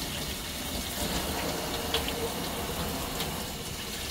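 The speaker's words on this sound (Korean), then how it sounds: "흐르는 물에 한번 이렇게 헹궈줘야 돼" Pork bones rinsed under running tap water in a kitchen sink, a steady close hiss of flowing water with faint clinks of bone.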